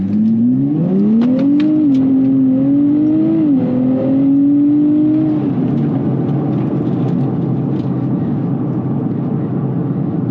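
A 2025 Nissan Z Nismo with an automatic transmission revs up loud and close, its engine note climbing and stepping through several quick gear shifts before settling into a steady roar.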